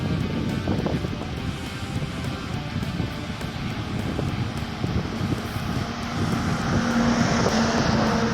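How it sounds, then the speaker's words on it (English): A car passes on a straight road, a broad roaring rumble that swells toward the end, heavy with wind noise buffeting the microphone, no talk. "There's another car coming."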